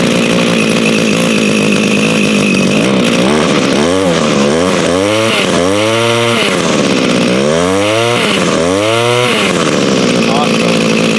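An Echo string trimmer with a carburetor fault fires up and runs, its small two-stroke engine revving loudly in repeated rising and falling bursts, then settling into a steady buzz.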